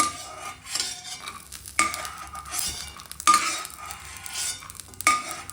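Roasted peanuts being shifted from a hot pan into a bowl, heard as a series of scraping, rattling stirs with light clinks of a spoon against metal, recurring every second or so at close range with no talking.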